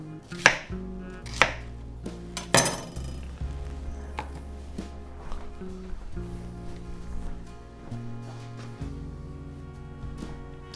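A knife cutting the top off a white onion on a cutting board gives a series of sharp, close chops at an irregular pace, with quieter scraping and handling between strikes and no talking.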